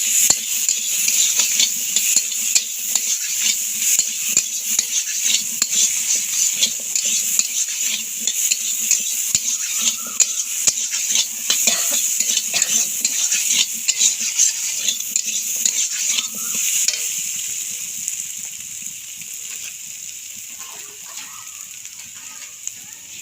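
Soybean mince stir-frying in a pan, a steady loud sizzle with constant scraping and clinking of a spatula against the metal, easing slightly toward the end.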